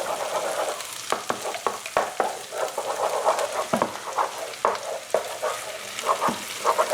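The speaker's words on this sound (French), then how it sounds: "Donc là je fais bien cuire l'œuf. Voilà. Et je mélange." Eggs for pad thai cooking in a hot pan, a steady crackling sizzle with repeated scrapes and knocks of a utensil stirring, close and clear, with no talking.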